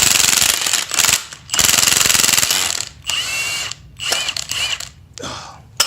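Impact or ratchet wrench with a 7/8 socket breaking loose the front strut nut on a BMW E46 ZHP, loud repeated hammering bursts in short runs separated by brief pauses, close up with no talking.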